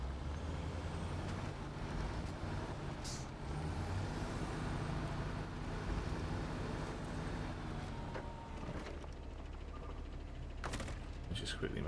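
In the video game SnowRunner, a heavy truck engine drones steadily at low pitch, with hissing air-brake releases and clunks on top, and a voice talks over the sound.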